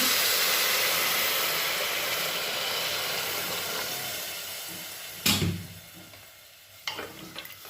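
Water poured into khichdi frying in a pan sets off a loud, steady hiss and sizzle that slowly fades, broken by a couple of sharp bursts of spattering near the end.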